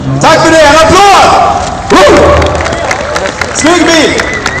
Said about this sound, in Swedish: Snyggt! Tack för det. En applåd!